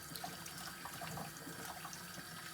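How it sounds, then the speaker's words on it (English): Water running from a kitchen tap while something is rinsed under it, a steady, fairly faint splashing hiss with small gurgles throughout and no talk. "Let's just rinse this up real quick."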